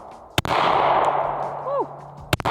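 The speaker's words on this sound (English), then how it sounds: "I'm gonna show you what not to do, what a lot of us do on anticipating the recoil, and see where the shots kind of go" Two sharp, loud pistol shots fired by a shooter anticipating the recoil, spaced about two seconds apart with a steady outdoor hiss between them.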